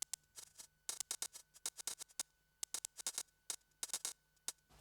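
Crisp, rapid ticking hi-hat hits in an irregular groove from a live techno setup, quiet overall with bright clustered bursts over a low steady hum.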